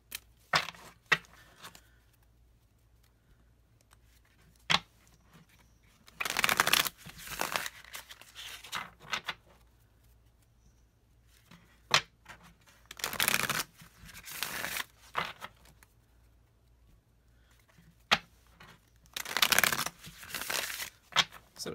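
A Tarot of the Four Elements deck is shuffled in several short papery riffling bursts, close and crisp, separated by quiet pauses and a few soft taps.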